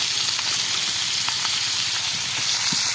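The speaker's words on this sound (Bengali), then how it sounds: "কঠিন মাছ ভাজতে আছি" Fish sizzling and hissing steadily in a pan over a wood-fired clay stove, a close, continuous frying crackle with a few brief pops.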